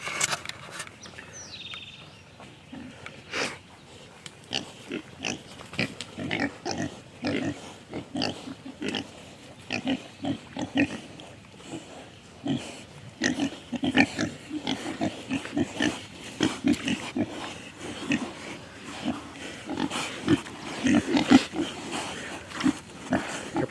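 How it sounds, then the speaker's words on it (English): Pigs on a homestead grunt and snort in a busy, irregular stream while a dog named Tyrion herds them, with rustling movement and occasional yelps mixed in at close range. "Tyrion's herding our pigs for us."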